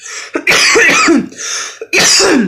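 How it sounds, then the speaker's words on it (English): Two harsh, close coughs separated by a short pause, each a quick raspy burst, loud against a quiet background. "Forever coughing."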